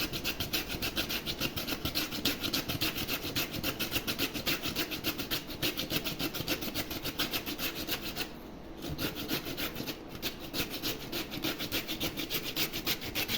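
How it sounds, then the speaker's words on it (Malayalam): Potato is rubbed and grated against a cutting board while soya bean kababs are being made, producing a fast, even, repeated rasping that carries on for several seconds up close, with one short pause, and no voices. "കട്ടിംഗ് ബോർഡിലിട്ട് വരക്കാം ഇതിലിട്ട് ഉരച്ചിങ്ങനെ എടുക്കാം"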